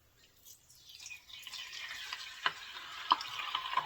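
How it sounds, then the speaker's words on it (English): Bacon frying in a deep fryer gives a steady hiss and sizzle with crackling pops, starting quietly and building in intensity. "I've been wanting to try to fry bacon in an actual fryer"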